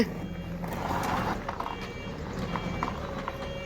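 A forklift's reversing alarm beeps in a steady, repeating pattern over a low engine rumble and clattering mechanical noise nearby.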